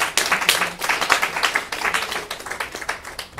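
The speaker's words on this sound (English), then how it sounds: "Let's give her a round of applause." Audience at a breakfast meeting clapping together in a steady round of applause, fairly close and dense throughout, fading slightly toward the end.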